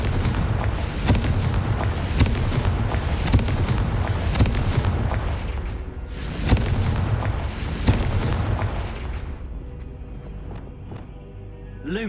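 Confringo blasting spells in Hogwarts Legacy set off a rapid series of loud, booming explosions with deep rumbling low end, repeated blasts over about ten seconds before thinning into a quieter tail.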